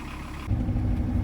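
Small universal tractor engine running while driving along a snowy street, a close, steady low mechanical rumble that grows a little louder partway through.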